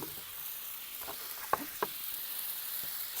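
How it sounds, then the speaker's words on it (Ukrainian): A soft sizzle and hiss, with a few sharp crackles and pops, as water is poured into a hot cauldron of fried borscht over a wood fire; quiet, with no talking. "Тихенечко заливаємо водою."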